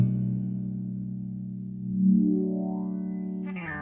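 All-Pedal Macrodose envelope filter on a sustained guitar tone, switched between triangle and random modes: a steady held chord with a slow sweeping filter rising in pitch, then a sudden bright jangle as the mode changes near the end.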